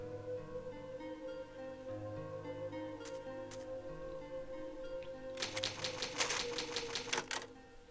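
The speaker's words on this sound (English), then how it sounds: "It's an old typewriter." An old typewriter in the Resident Evil HD Remaster saves the game: a quick, dense flurry of sharp mechanical key clacks rings out clearly over a steady, low ambient drone.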